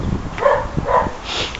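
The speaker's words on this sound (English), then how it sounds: "and that's a dog barking, and he never ever stops." A dog barks repeatedly near a home gym shed, two or three loud barks in quick succession with a short higher yip at the end, heard alone without speech.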